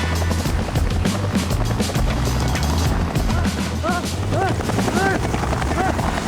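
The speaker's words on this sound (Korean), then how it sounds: "우와, 저 헬기, 우리 저 헬기 진짜 내려왔나?" A helicopter scene from the Korean medical drama The Trauma Code: Heroes on Call, with a steady, loud rotor-like roar filling the whole stretch while voices speak over it.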